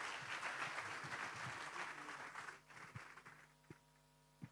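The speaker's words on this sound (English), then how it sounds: "Again, a loud applause to all of them" A conference audience applauds indoors, the clapping dense and steady at first, then thinning into scattered claps over a low hum; fairly faint overall.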